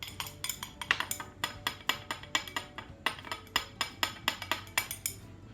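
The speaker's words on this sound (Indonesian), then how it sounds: "selanjutnya akan saya coba aduk" A solution being stirred in a glass lab vessel, a fast, regular run of bright clinks as the stirrer strikes the glass, about four taps a second, close and clear with no talk.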